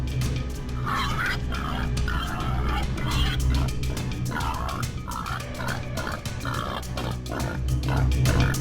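Wild boar in a rural village setting grunting in repeated short bursts over a steady low rumble, fairly close and continuous throughout.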